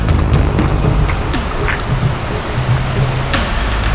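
Heavy rain pours down at a riverside waterfall, a dense loud hiss of drops on water and surfaces, steady with scattered sharper splashes and no talk.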